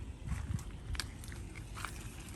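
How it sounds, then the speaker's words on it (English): A few soft, close bites and chews into a ripe strawberry guava (Cattley guava) fruit, with faint crunching from the seeds, quiet and brief with no talking. "Let's see if I can bite into it."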